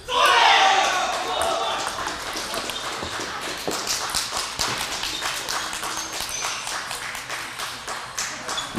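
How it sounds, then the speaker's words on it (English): At a women's collegiate table tennis team match, the team bench bursts into loud cheering for its player and then fades into quick ball taps, claps and crowd chatter. "UCSD bench coming out, cheering on their player."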